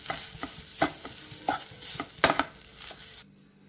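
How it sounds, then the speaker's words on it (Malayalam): Sweet unniyappam batter is mixed by hand in a bowl, making soft, irregular scraping and slapping strokes, fairly quiet, before the sound stops. "ഇത് നമുക്ക് ഉണ്ണിയപ്പം ചട്ടിയിലേക്ക് ഇടാനുള്ള പാകത്തിന് ഇത് മിക്സ് ചെയ്തെടുക്കണം."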